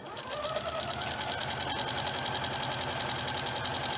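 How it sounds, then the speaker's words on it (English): A Janome sewing machine fitted with a walking foot stitches at a steady fast pace, its rapid mechanical clatter running loud and unbroken with no talking. "My walking foot makes a lot of noise on this Janome machine here."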